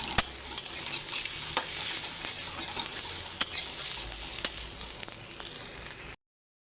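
Salted egg is fried and scrambled in a pan, giving a steady close sizzle broken by several sharp spatula scrapes and taps, with no talking, before the sound cuts off abruptly.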